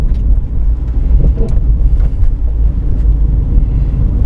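A manual car coasts in third gear with the throttle off, its engine revs sinking toward idle under a loud, steady low rumble and some wind buffeting, no one talking.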